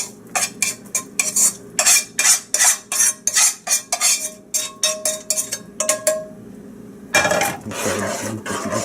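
Chopped onion and garlic mix is tossed into a soup pot for spicy sausage and tortellini soup, giving a run of rapid metallic scrapes and clinks from a utensil against the pot, close and loud, before sizzling takes over near the end.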